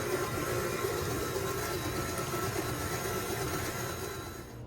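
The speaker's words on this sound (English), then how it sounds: "then we're going to start the stand mixer again, but we're gonna put it on a lower speed, more of a medium speed" A stand mixer at medium speed whisking an egg into sticky toffee pudding batter, a loud steady motor whir with a constant rumble, close up and unbroken, easing slightly at the end.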